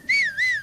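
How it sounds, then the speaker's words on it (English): A single sustained whistle for a horse in a Zelda game, a clear warbling pitch that rises and falls twice, loud and close, with no other sound. "when I got lost on foot while exploring and tried to whistle for my horse"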